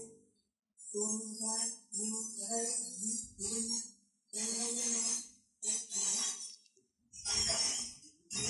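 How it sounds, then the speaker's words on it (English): A metallic, clinking electronic tone from an Arne Nordheim demonstration pulses in the rhythm of a voice, bursts of bright ringing metal separated by short silences, like phrases of speech without words. "So you hear sort of the rhythm of the voice imposed upon on this metal sound"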